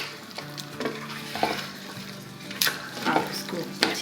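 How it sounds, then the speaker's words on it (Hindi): Onions in oil sizzle in an Instant Pot while a utensil stirs them, with a steady frying hiss broken by several scraping clicks against the pot. "आप इसको अच्छी तरह से मिक्स कर लें"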